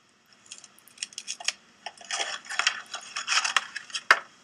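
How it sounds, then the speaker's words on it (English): Scissors snipping through a strip of Velcro into three small squares, a series of short, crisp cuts and rustles close by in a quiet room, with no talking. "I'm going to take my Velcro and I'm going to cut"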